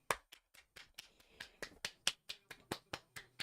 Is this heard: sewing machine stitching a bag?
no